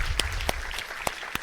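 A few scattered, separate hand claps from an audience at the 30x30 Partnership 2025 Summit, a nature conservation gathering, sounding like the thin tail end of a round of applause.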